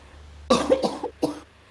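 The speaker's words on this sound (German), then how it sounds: "Moment, muss husten." A single person coughs close by, three quick harsh bursts in a row over a low steady hum, with no talking.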